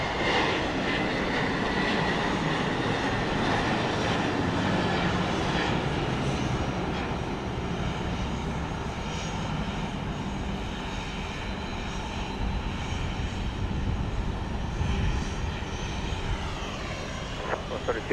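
A Southwest airliner departs Dallas Love Field at night, its jet engines roaring loud and steady throughout, the broad rumble shifting slightly in pitch as it climbs away.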